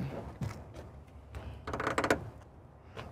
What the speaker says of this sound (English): Coming around to the back, these doors open all the way up.